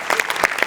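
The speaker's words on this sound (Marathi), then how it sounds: "याच्यात तुझ्या लेखकासाठी जोरदार टाळ्या एकदा." A studio audience at a Marathi comedy sketch show claps loudly for the skit's writer, a dense burst of close, brisk applause.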